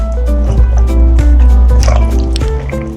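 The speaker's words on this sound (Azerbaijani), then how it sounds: "Sosla makaronu yaxşı-yaxşı qarışdırırıq." Pasta being stirred together with sauce, giving soft wet squelching and slapping sounds throughout, close and fairly loud, with no talking.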